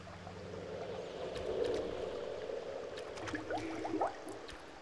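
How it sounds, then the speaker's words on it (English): Water bubbling in The Witcher video game, a faint steady gurgling murmur with a few brief bubbly pops rising near the end. "That bubbling is just obnoxious."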